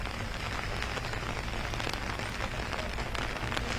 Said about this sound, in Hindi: मूसलाधार बारिश है